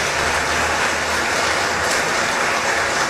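A crowd applauds young performers at a cultural event in San Miguel de Urcuquí, with loud, dense, continuous clapping close up and no voices.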